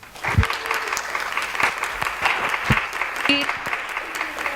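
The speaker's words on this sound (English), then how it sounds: "Another round of applause." A lecture audience gives a steady round of applause after a talk on Caribbean pirates, with a few voices and scattered knocks mixed into the clapping.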